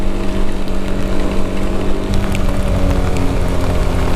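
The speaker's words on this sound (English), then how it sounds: "Oh my god, this is very, very heavy rain." Heavy rain pours down on a road ride through Ecuador between Zaruma and Vilcabamba, a dense, loud, steady wash of drops over a low engine drone, with no voices.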